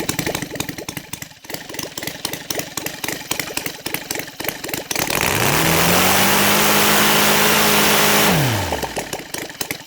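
A Saito 450 model engine converted to gasoline ticks over at a low idle with rapid popping firing pulses, then surges up to a loud, steady full-throttle whine, holds it, and drops away.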